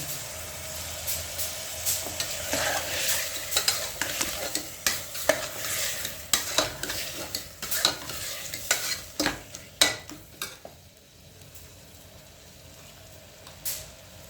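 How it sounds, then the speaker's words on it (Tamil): Close, clattering stirring and scraping in a pan as a tomato rice mixture with coriander sautés, with irregular spoon knocks over a soft sizzle. "நல்லா வதக்குங்க. அதோட கொஞ்சம் கொத்தமல்லி கொஞ்சம் போட்டுக்கோங்க"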